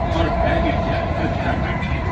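A Delhi metro train sits at the station, a loud steady rumble and rolling hum with a bright constant tone on top, running continuously throughout.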